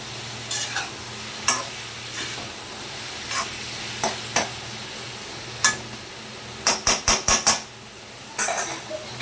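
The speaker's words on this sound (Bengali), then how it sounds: "নাড়াচাড়া করে নিচ্ছি, মিশিয়ে নেব লাউটার সাথে।" A spatula scrapes and stirs bottle gourd curry in a pan, making repeated clattering strokes, including a quick burst of several scrapes, over a low sizzle.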